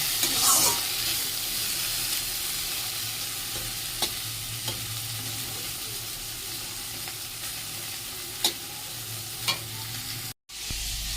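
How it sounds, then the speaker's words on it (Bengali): Steady sizzling of okra frying in hot oil, close and continuous, with a few faint clicks and stirs; no voices. "চলুন ভেন্ডিটাকে ছেড়ে দিই। এই যে ভেন্ডিটা ছেড়ে দিয়েছি, ভেন্ডিটা একটু ভাজা ভাজা হোক"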